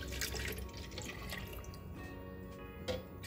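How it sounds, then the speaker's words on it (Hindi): Water pours steadily into a mixer jar holding a cup of yogurt while spiced buttermilk is being made, a close, continuous trickling and splashing with a few drips toward the end. "अब डालेंगे इसमें पानी।"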